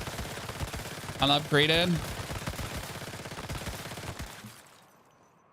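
Rapid, sustained SMG fire in the survival shooter Once Human rattles on for about four seconds as a dense, continuous burst, with a brief spoken word over it before it cuts off and fades.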